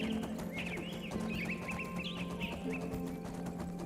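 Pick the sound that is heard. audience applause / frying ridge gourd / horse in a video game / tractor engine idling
horse in a video game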